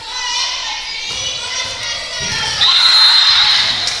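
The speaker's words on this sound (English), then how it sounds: "So the Huskies do their little ace cheer" Girls' junior volleyball team shouting a short ace cheer together after an ace at a regional match, loud and close, with crowd noise and cheering rising toward the end.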